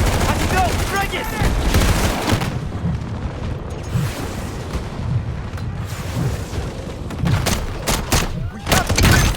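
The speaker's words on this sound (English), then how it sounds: "Enemy LMG in that bunker!" An enemy light machine gun firing from a bunker in Modern Warfare, dense bursts of gunfire and booming explosions overlapping loudly and continuously, chaotic battlefield noise with no clear pauses.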